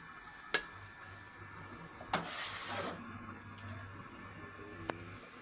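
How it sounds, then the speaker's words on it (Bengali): Whole cardamom, cinnamon, cloves and bay leaf sizzle faintly in hot oil for yakhni pulao, with a low steady fry broken by a few sharp clicks and a brief spattering burst. "এরপর এই তেলের মধ্যেই আমি কিছু গোটা গরম মশলা অ্যাড করে দিলাম। এলাচ, দারচিনি, লবঙ্গ আর তেজপাতা।"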